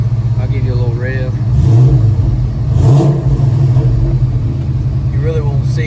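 A 2004 Ford Mustang Cobra engine idling with a low, loud rumble that swells through two short revs before settling back, heard up close.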